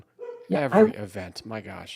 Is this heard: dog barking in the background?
yes